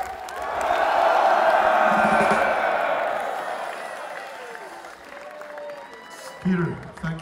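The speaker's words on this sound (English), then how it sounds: "Noise for Peter!" A crowd at a heavy metal concert in Budapest cheering and applauding loudly, a swelling roar of claps and shouts that slowly fades, with someone speaking briefly near the end.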